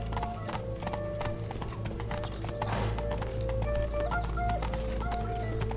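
Horse hooves clip-clop steadily in The Witcher 3: Blood and Wine, a close, even rhythm of hoofbeats over game music and ambient sound, with a brief whinny.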